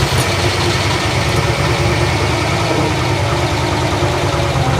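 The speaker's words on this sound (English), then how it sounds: "What's the clutch release bearing noise?" A Corvette C4 ZR-1 engine, a barn find under restoration, runs at a steady idle, a loud continuous rumble with a faint mechanical whir from the clutch release bearing mixed in.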